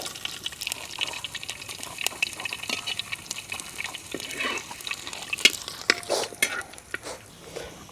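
Curry leaves and dried red chillies frying in sesame oil for a Kerala fish pickle, a busy crackling sizzle with frequent spatters and stirring scrapes, close and fairly loud, no voices.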